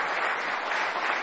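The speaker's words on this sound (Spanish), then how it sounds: "vamos a dar un aplauso" Brief burst of audience applause at a televised political event, dense steady clapping from a crowd at moderate level.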